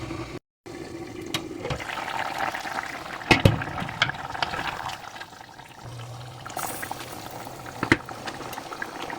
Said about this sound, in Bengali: আমি চাপা দিয়ে এটাকে যাতে ঝোলটা মাছের মধ্যে ঢোকে চাপা দিয়ে পাঁচ মিনিট মতন কুক করব